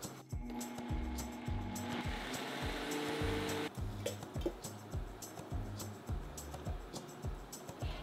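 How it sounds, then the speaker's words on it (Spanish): A kitchen blender grinds soaked rice with water and condensed milk for horchata, giving a steady whirring roar with a rhythmic low churning pulse that eases partway through. "Tapamos y licuamos nuevamente."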